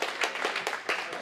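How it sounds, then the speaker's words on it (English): Brief, scattered clapping from a small crowd greets the top 24 bowlers at a singles bowling tournament final, a quick burst of separate claps heard close up. "a nice round of applause for our top 24 bowlers"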